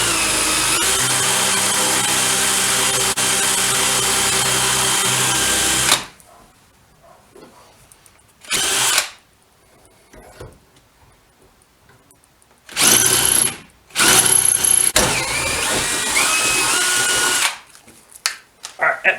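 A power drill widens a pre-tapped hole for a Motozaaa crash bar on a 2019 Honda CB500X, running loud and steady for about six seconds, then in several shorter bursts separated by quiet pauses.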